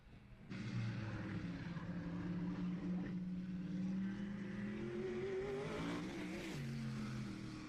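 A race car, the 2A driven by Rob Hammond, on a qualifying lap at Madera Speedway, heard as a loud sustained engine drone that rises and shifts in pitch as it passes, with no talk over it.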